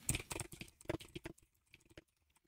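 Someone types a web search on a computer keyboard, a quick, close run of crisp key clicks that thins into a few scattered taps and fades toward the end.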